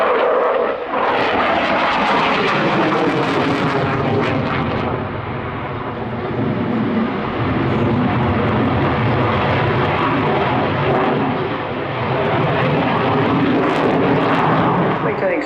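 Canard-wing jet aircraft flying a high-speed airshow pass at about 400 knots while pulling 7 G, its loud continuous engine roar filling the whole stretch with slight swells, and commentary over a public address running beneath it.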